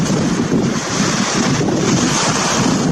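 Strong gusty wind at a beach buffets the microphone in a steady, loud roar, with surf and waves washing continuously underneath and no voices present.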